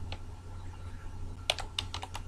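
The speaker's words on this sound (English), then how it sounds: "I'm going to go ahead and type in the following" Keys clatter on a computer keyboard in a few quick bursts of close, light clicks, with a short run of typing near the end over a low steady hum.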